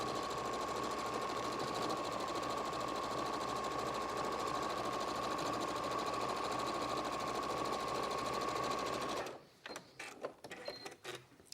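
A sewing machine chain piecing quilt squares runs steadily for about nine seconds, a close, continuous mechanical whir with a fast stitching pulse, then stops abruptly, leaving only faint handling clicks.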